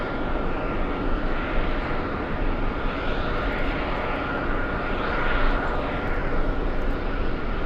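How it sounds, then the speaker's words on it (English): Steady, loud broadband jet roar of a Delta airliner arriving from Naples at JFK airport, a continuous wash of engine noise holding level for the whole stretch with no voices. "We have Delta 233 flying in from Naples."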